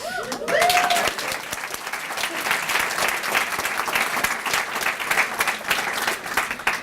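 An audience at a heritage council luncheon applauds an award winner, a full sustained round of clapping from a crowd, with a brief voice over it at the start.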